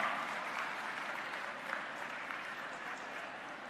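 A crowd at Chief Minister Baghel's political rally claps, heard as a faint, distant, steady wash of applause with no talk over it.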